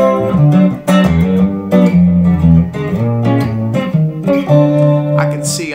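A Fender Telecaster electric guitar played through an effects rig, recorded on a Zoom Q8 camcorder, ringing out close and loud with sustained chords and single notes in a steady, fairly busy rhythm.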